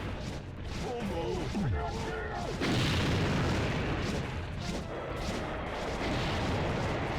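Rockets explode in TORC: Legend of the Ogre Crown, an unreleased PS1 game, with a rush of booming blasts and crashes under game music and effects, a big burst near the middle, and faint talk mixed in.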